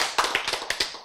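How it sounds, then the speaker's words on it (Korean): A few scattered claps from a church lecture audience, a quick cluster of sharp, close taps that thins out after about a second. "이거 한 박수 한번 보내야 안 되겠어요?"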